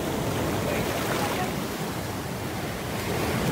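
Sea waves rolling onto the beach at Mazatlán, Sinaloa, a steady loud wash of surf with wind buffeting the microphone throughout.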